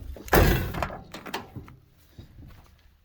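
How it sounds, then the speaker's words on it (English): A sharp thunk of a 1976 Chevrolet C10 Suburban door shutting, followed by a few lighter clicks and knocks, close and brief. "Doors open and close nicely."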